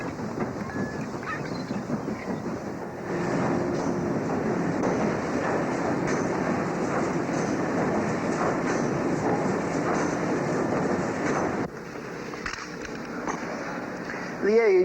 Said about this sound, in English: This coal-burning steamer, which we are on, is a relic of the Industrial Revolution.